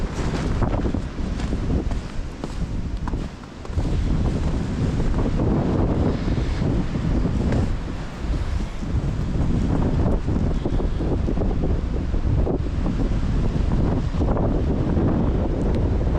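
Strong winter wind blows against a tarp shelter in the snow, a continuous loud roaring buffet with gusty surges and brief dips, close to the microphone and with no talking.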